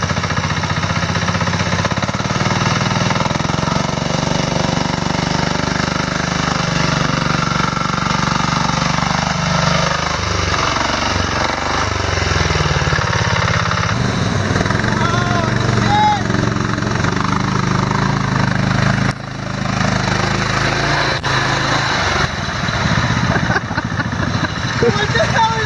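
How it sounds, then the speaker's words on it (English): A Sears diesel riding lawn mower drives along with a loud, continuous, gritty engine drone that shifts in pitch as it moves, with people talking over it. "Mower Outlaw driving the Sears diesel."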